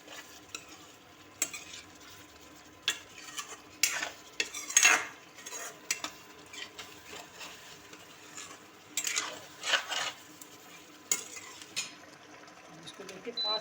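Cream (malai) being stirred into a paneer and capsicum curry in a pan: repeated scraping and clinking strokes of a spoon with a light sizzle, close by, in uneven bursts.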